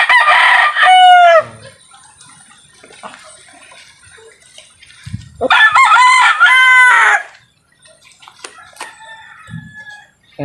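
A rooster crows loudly twice, long drawn-out calls separated by quiet stretches, with soft clucking from chickens and faint background noises in between.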